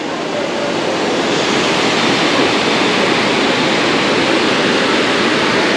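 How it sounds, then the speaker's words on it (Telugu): A waterfall in Munnar roars as a dense, steady rush of falling water, loud and close, with no breaks for the whole stretch. "సో ఇదే వాటర్ ఫాల్స్"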